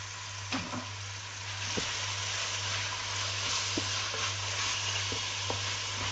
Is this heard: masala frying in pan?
yes